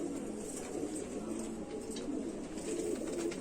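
Rampuri (Teddy) pigeons coo softly in a shaded loft, with low, continuous murmuring calls under steady background noise and no talk.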